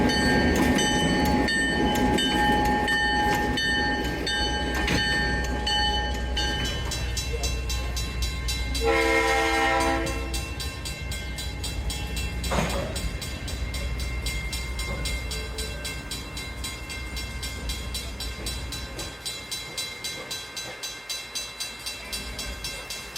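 A tourist excursion train running through Bucks County near New Hope, Pennsylvania, with a loud horn blast midway, steady rolling rumble and clanking of the cars that gradually eases, heard up close.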